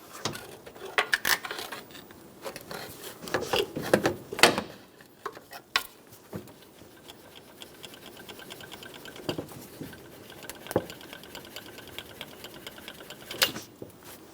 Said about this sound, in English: I'm going to use a pry bar and push our power steering pump out.